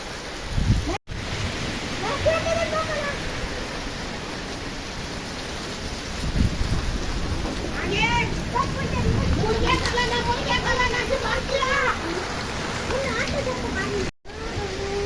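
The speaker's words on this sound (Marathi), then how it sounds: "इतका भयान पाऊस आहे हे वारं" Heavy May rain driven by strong wind: a dense, continuous hiss of rainfall with gusting roar throughout, while a person talks over it at moderate volume.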